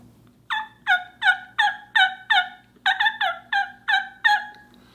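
Diaphragm mouth call imitating a wild turkey yelp: two quick runs of about six sharp, raspy notes each, loud and close over a faint low hum, no talking.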